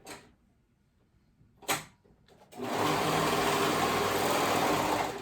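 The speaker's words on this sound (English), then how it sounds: "I am going to be working with my serger today" A quiet stretch with a sharp clack, then a serger starts up and runs steadily with a loud, continuous whirring buzz, sewing the shoulder seams of a knit kids' cardigan.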